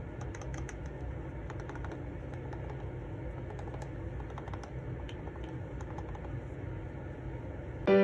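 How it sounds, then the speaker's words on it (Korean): Shortcut buttons on an XPPen Artist 16 (2nd gen) drawing tablet pressed repeatedly, giving light, soft clicks in quick irregular runs over a steady low background hum, fairly quiet overall. "버튼 클릭감은 살짝 딸깍거리지만 시끄러운 정도는 아니에요"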